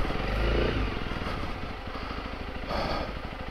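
A Honda CRF300L Rally motorcycle engine runs on a muddy, snowy trail, a near, steady low throb that rises and falls slightly with the throttle, with no talk over it.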